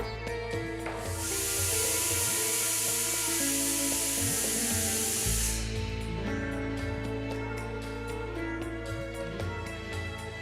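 A loud, high-pitched steam hiss from a pressure cooker whistle lasts several seconds over steady background hum, then cuts off, leaving the low rumble.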